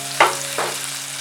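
Chopped ginger, garlic and green chillies sauté in a pan over a low sizzle, with two quick spoon scrapes close by.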